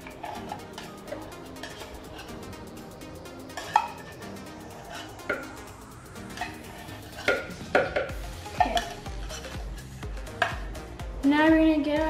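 A spoon scooping thick condensed milk while making chocoflan, with soft scrapes and occasional clinks against a can or bowl, fairly close and intermittent, over faint background music.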